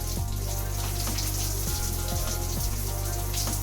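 Tap water runs steadily onto soap lather, a close, continuous hiss and splash with a low hum underneath.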